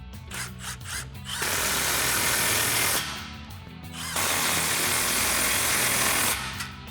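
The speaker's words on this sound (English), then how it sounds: "we'll tighten these two clamps down. Same thing, impact and 15mm socket." Impact wrench with a 15mm socket tightening exhaust clamps on a Ford F-150 EcoBoost, two sustained bursts of rattling hammering a couple of seconds each, close and loud, separated by short pauses.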